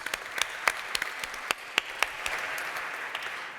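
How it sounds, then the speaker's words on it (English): Audience applause at a benefit dinner honoring an executive, a dense wash of many hands clapping steadily through the room with sharper individual claps standing out, moderately loud and continuous with no talk. "So big round of applause for you."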